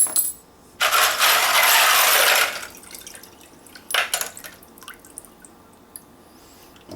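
Brass cartridge cases and cleaning solution dumped out, a loud metallic rattling pour lasting about two seconds followed by a few scattered clinks and drips.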